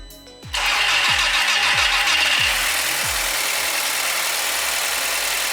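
A 2.0T FSI EA113 engine in a B7 car, after cam follower replacement, cranks with a few rhythmic starter turns, then catches and roars up loudly before settling into a steady, rumbling idle.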